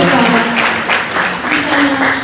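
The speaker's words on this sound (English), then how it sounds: "So a big round of applause for Veronica." Audience applause at an evening talk on social media and the economics of influence, a loud, dense wash of clapping running steadily throughout, with some voices mixed in beneath it.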